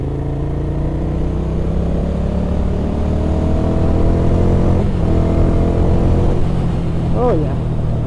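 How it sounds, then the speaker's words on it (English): A Ducati Scrambler's exhaust drones steadily as the rider rolls off the throttle, a close, loud engine hum over wind rush with a short burbling flutter near the end. "I guess that rim's exhaust gives you that nice sort of, I love that sound as you roll off the throttle."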